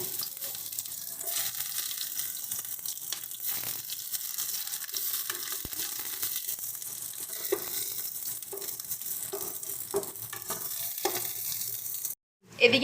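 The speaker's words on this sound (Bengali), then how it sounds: "পেঁয়াজটা আমাদের একটু ভাজা হোক" Chopped onions fry in hot oil in a pan for Bengali egg devil. A steady, loud sizzle runs throughout with occasional stirring clicks, then stops abruptly near the end.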